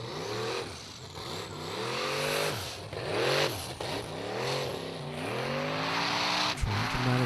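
A Formula Offroad buggy named Thunderbolt, driven by Jóhann Gunnlaugsson, struggles for grip over deep ruts at an Icelandic offroad round in Hafnarfjordur. Its engine revs loud and close in repeated rising and falling bursts, with wheelspin throughout.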